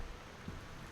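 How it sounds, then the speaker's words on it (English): Rain falls in the video game Gone Home as a soft, continuous patter and hiss. It is faint and steady throughout, with no voices. "It's raining."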